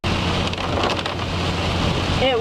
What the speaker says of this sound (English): It was raining so much harder.